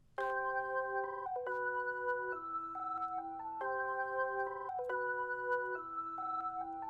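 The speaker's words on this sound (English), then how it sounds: "soft synth slash pluck noise for this beat" Soft, bell-like synth plucks play a repeating chord pattern at a steady pace, quiet and clean with no voices.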